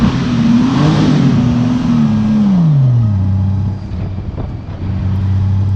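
A Honda Valkyrie GL1800C motorcycle engine runs close and loud with a low, throaty note that swells in pitch, then drops back to a steady lower idle.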